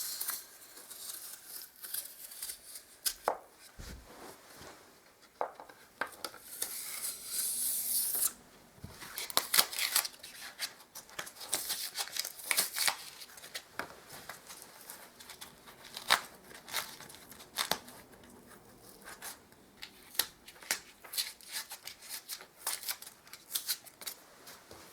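Masking tape being peeled away from dried caulk along a wooden baseboard, heard as close, irregular bursts of crackling, tearing and ripping with short pauses between pulls and no voices.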